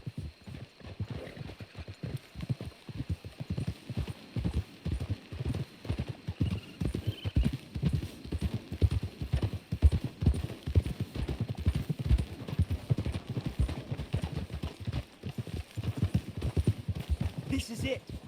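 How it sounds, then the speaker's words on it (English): Horses trot at a steady pace in Red Dead Redemption 2, their hooves clip-clopping in a continuous rhythm throughout, with voices heard now and then over the hoofbeats. "We should leave the horses."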